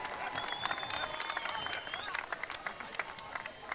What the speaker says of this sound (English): Let's give our athletes a round of applause.